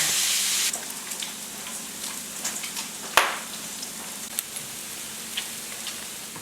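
Potatoes and bacon sizzle on a grill, a steady broadband hiss that is loud at first, then settles lower with scattered pops and one sharp crackle partway through.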